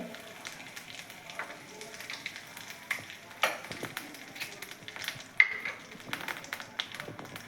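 Cumin seeds and half a spoon of asafoetida sizzle in hot oil for a tempering, a steady crackling hiss with small pops and occasional louder spits, near and continuous with no voices.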